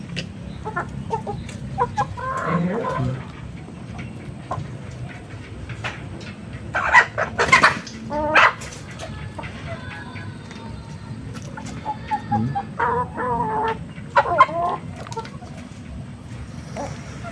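Backyard chickens of a hardy breed cluck and call near the coop after a typhoon, with bursts of clucking rising over a steady murmur of the flock and low background noise, plus occasional voices.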